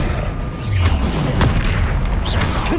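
A Bombarda spell explodes in Hogwarts Legacy, producing a loud, deep boom that swells and rumbles over a couple of seconds amid other brief spell effects, with no talking.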